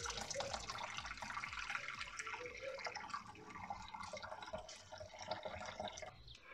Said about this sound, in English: Then we're going to fill the pan with some boiling water.